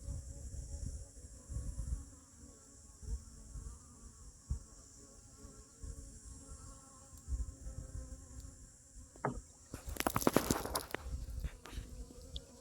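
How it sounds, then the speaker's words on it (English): Honeybees buzz around a hive where guard bees confront robber bees, a dense nearby drone with individual fly-bys swelling and fading, then a loud scraping clatter near the end. "I think we've got some formidable little guard bees in there"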